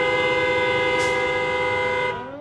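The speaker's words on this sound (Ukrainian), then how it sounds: "Вже годину у всьому місті сигналять автівки." Car horns sound across Donetsk city, one loud, steady blast holding a sustained tone that tails off and fades near the end, with no talking.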